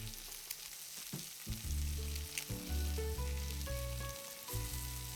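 Hen of the woods mushrooms roast in a pan with a soft, steady sizzle. Low music plays underneath and no voices are heard.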